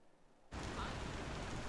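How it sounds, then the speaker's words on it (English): Rain in a Star Citizen game scene comes on suddenly after half a second of near silence, then continues as a steady, broad wash of hissing patter. "Just listen to the rain and Kyle coughing in the background over the"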